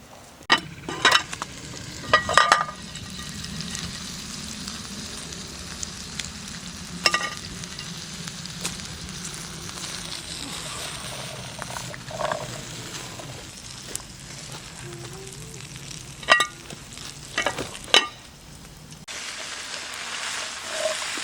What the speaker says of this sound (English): Potatoes are starting to crisp up nice, hot as a dingle.